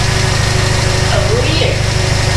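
A forklift engine runs steadily in a shop during a vehicle body swap, its low continuous drone filling the background throughout.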